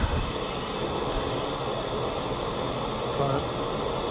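A dental lab grinder shapes the proximal contour of a tooth, giving a continuous close rasping whir with a high, steady hiss, held level throughout with faint voice-like murmur underneath.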